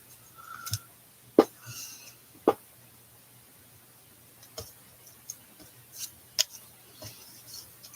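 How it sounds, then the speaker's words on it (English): Scattered sharp snips and clicks of scissors cutting fabric, close and irregular, with quiet gaps between cuts and faint rustling. "Oh my gosh, these scissors suck."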